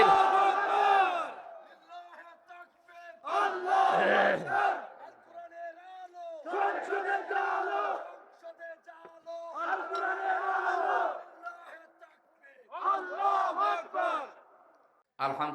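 A large crowd at an Islamic sermon gathering roars the takbir in unison, five loud chanted bursts each lasting a second or two, separated by pauses with a preacher's voice faintly between them.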